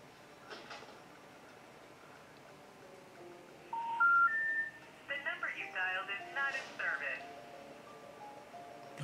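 Telephone dialing tones play in a short series of electronic beeps, preceded by fainter tones and quiet background, the tone bursts fairly clear and close.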